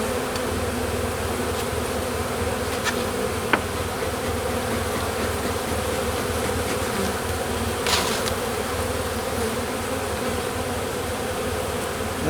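Honey bees buzz thickly around an open hive during an inspection, a dense continuous drone close up, with faint clicks and knocks from handling the frames now and then.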